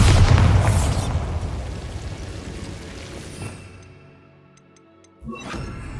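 Bombarda spell explosion in Hogwarts Legacy starts with a loud booming blast that rumbles and decays over a few seconds into quiet, followed by a second sharper impact near the end.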